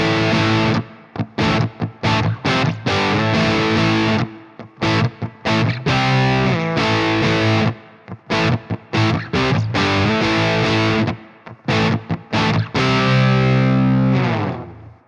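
Heavily distorted electric guitar riff played through a Bogren BDM amp plugin, loud and close, with chugging stop-start phrasing, short gaps between chords and a sustained final chord.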